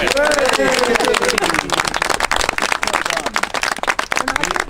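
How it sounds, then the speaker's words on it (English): Round of applause for the ARP kiln project team at a 2018 gathering: dense, sustained clapping from a group, loud and close, with voices calling out over it. "Big round of applause for our team."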